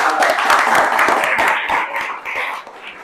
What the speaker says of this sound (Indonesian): Oke, boleh tepuk tangan dulu dong.